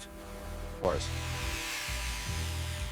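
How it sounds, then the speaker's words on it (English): A high-speed buffer polishes the original wheels of a 1978 Toyota Land Cruiser FJ45 pickup, giving a steady mechanical whir with a sharp rising whine partway through. Continuous and fairly close, with no talk. "Using the high-speed buffer is keeping that mirror finish on these original FJ45 wheels."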